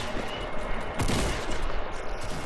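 Shotgun fire in an online shooter video game: a burst of blasts crackles at moderate level, with one sharper shot near the middle amid continuous game noise.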